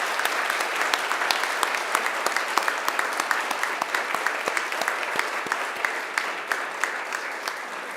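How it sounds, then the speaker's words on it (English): A graduation audience applauds families and friends in a hall, with sustained, dense clapping and many distinct sharp claps that continues steadily for several seconds. "please give them a big round of applause"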